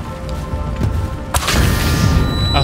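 Explosion in the video game A Plague Tale Requiem, a sudden loud boom bursting in over game ambience and leaving a sustained roaring rumble, with no talk.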